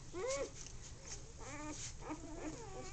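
Newborn puppies nursing from their mother give several thin, high whimpers and yips in short bursts, close and fairly quiet, with faint background noise.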